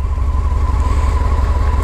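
A 2003 Honda CBR 600 F4i motorcycle with its stock exhaust idles steadily, a loud, close, even engine throb with no voices.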